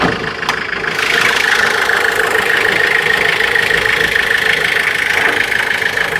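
A 2007 Tata Sumo's engine runs loud and close for about six seconds, a steady mechanical drone with a rough, knocking edge that swells slightly after the first second and holds.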